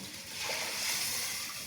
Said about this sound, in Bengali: তবে পানি দিয়ে দিলাম,